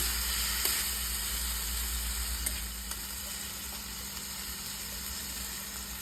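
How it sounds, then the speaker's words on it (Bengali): Chopped tomatoes dropped into a pan of frying gravy for green pea ghugni, giving a steady close sizzle and hiss with a few soft clicks and pops, no talking. "কেটে থাকা টমেটো দিয়ে দেবো"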